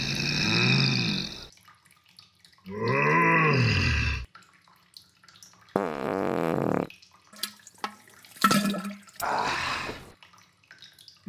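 Cartoonish splashes and plops of poop dropping into toilet water in the Toilet Simulator video game, several loud, separate bursts with squelchy, bubbly tones and quiet gaps between them.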